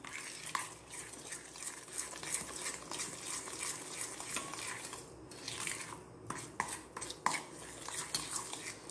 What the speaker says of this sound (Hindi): हम इसको 5 मिनट तक ऐसे राउंड वाइज ऐसे घुमाते रहेंगे।